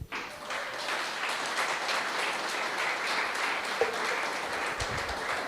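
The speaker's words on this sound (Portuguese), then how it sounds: "aplauda o Senhor mais uma vez." Church congregation applauding during a worship service, a broad sustained patter of many hands, moderately distant and even, with a brief knock near the end.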